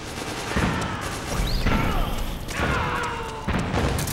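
Grenade blasts and gunfire in the online shooter Metal Gear Online, a run of loud booms and crashes at roughly one-second intervals over constant battle noise, with brief voice chatter.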